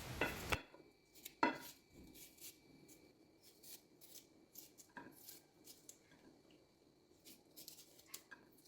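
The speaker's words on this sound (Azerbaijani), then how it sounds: "Sonra başlıqlarını qopardıb videoda göstərdiyim formada doğrayıram." Green beans being chopped with a knife, heard as a few quiet, sharp chops spaced irregularly with soft handling noise between them and no talking.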